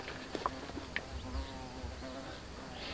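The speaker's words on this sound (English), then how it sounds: "Oh, it's a bee. Or is it a hornet?" A large bee or hornet buzzes near a temple in Lampang, Thailand, a faint, wavering drone that comes and goes over quiet outdoor background, with no speech.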